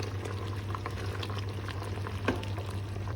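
Plum jam of plums and sugar boiling in a pot, a steady close bubbling and simmering hiss with faint pops, no voices.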